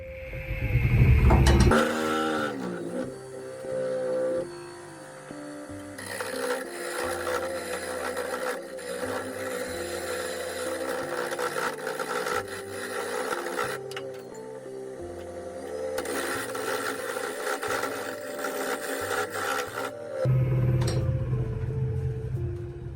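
Wooden pet urn being shaped on a wood lathe, a steady whirring drone with changing tonal layers as the tool cuts, loud motor bursts at the start and end, running alone without speech.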